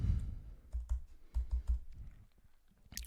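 Computer keyboard keys tapped while entering credit card payment details, sounding as a few close, uneven bursts of clicky keystrokes with short pauses between them and a final quick tap at the end.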